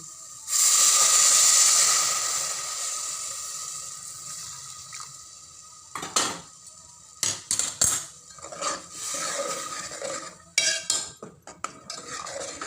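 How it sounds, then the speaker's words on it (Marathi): Hot water is poured into a hot pan of spices while cooking matki usal, giving a loud, sustained hiss that fades after a couple of seconds. Intermittent stirring and clinking of a utensil against the pan follow. "त्यात आपण आता गरम पाणी टाकलेलं आहे."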